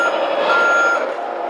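Steady electronic reversing beep tone from a 1/12 scale P801 8x8 RC military truck, loud and close, continuing for the whole moment.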